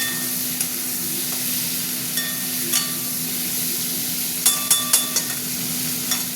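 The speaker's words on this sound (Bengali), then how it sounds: "আলুটা একটু ভাজা ভাজা করবো।" Potatoes fry in a pan with prawns for a jackfruit prawn curry, giving a steady soft sizzle, with a few sharp clinks and scrapes of stirring near the end.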